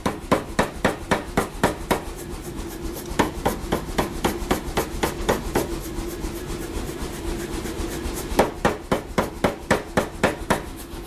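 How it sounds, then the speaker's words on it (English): Stainless steel is hammered by hand while forging, with a steady run of loud, close metallic hammer blows at an even rhythm, a brief lull in the middle, then more quick strikes. "I'm going to hammer that by hand"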